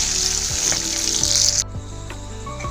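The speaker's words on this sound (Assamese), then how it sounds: "মই এতিয়া এনেকৈ অলপ সময় ভাজি লওঁ।" Curry leaves crackle and sizzle loudly in hot oil with peanuts, a bright close fry that drops abruptly softer partway through, with no talk.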